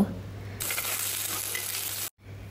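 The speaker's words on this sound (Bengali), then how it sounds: "এদিকে মাছটাও প্রায় ভাজা হয়ে এসেছে" Fish frying in a kadai in a home kitchen, a steady bright sizzle that starts suddenly after a quieter moment, holds evenly for about a second and a half, then cuts out briefly before resuming more softly.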